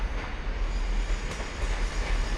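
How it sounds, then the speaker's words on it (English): Train coming in off the West Coast main line at the old Maryport and Carlisle Railway goods and coal depot, a steady loud rumble of wheels and engine throughout, with no voices. "This train's coming in from the West Coast line."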